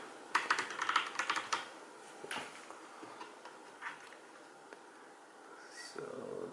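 Typing on a Logitech POP Keys keyboard with quiet linear brown switches: a quick burst of soft, close clacks at first, then sparse scattered keystrokes in a quiet room.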